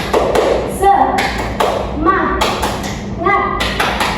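A primary school class, led by their teacher, performs a rhythmic tepuk semangat, bursts of patterned clapping and taps repeated in short sets, with children's and the teacher's voices chanting along between the claps.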